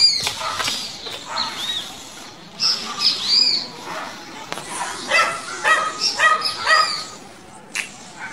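A small female dog barks and yips in quick, high-pitched bursts nearby, repeated irregularly through the stretch, with some whimpering and possible background voices.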